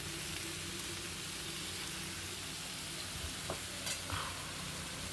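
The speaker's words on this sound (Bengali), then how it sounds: "ধুয়ে রাখা পালং শাকগুলো এখানে দিয়ে দিলাম" Freshly washed spinach hits a hot pan and fries, a dense steady sizzle with a few stirring clicks and scrapes, close and uninterrupted by talk.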